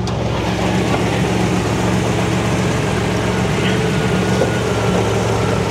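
A 1987 Buick Grand National engine idling with the hood open, a steady, close, low rumble that holds an even tone throughout with no revving or talking.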